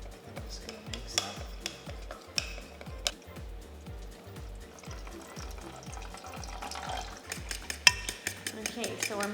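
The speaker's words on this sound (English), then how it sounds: "Okay, so we're mixing the egg." Egg beaten with mirin and salt for a sushi omelette, a fork or chopsticks tapping the bowl in a steady fast rhythm, close and moderately loud, with a few brighter clinks.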